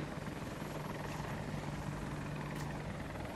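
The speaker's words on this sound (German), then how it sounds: "Oh, noch ein Heli. Da sind zwei Helis" A helicopter in Battlefield 2042 on the Hourglass map gives a steady, loud rotor-and-engine drone with a constant hum that holds unbroken through the whole stretch.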